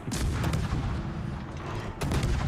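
Naval guns fire high-explosive shells in a World of Warships sea battle: loud, booming salvos roll continuously, with a fresh blast near the end and no talking.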